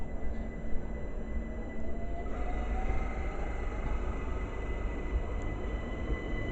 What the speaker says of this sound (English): Departing here that brought me in is 378-218 with the 1054 London Overground service from Watford Junction to London Euston.